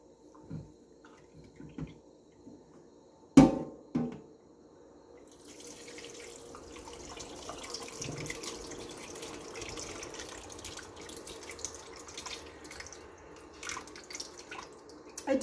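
Whey dripping and trickling from cheesecloth into a sink while soft goat milk cheese drains, a few sharp plops early on, then a continuous quiet splashing trickle, close and without talk.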